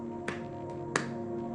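Two crisp close hand claps keep time with a children's song, spaced under a second apart, with a faint softer tap between them over a quiet sustained musical backing.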